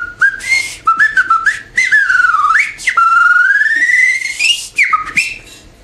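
Someone whistles a clear, loud melody up close, with sliding pitch bends and short breathy gaps between phrases.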